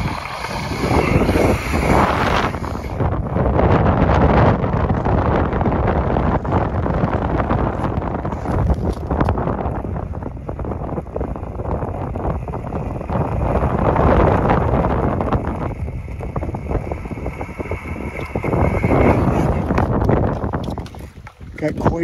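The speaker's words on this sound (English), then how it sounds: "Got quite a north wind here, probably 10 mile an hour." A strong north wind buffets a sailboat out on Schroon Lake, a loud, constant roar of wind against the microphone with the rush of water underneath.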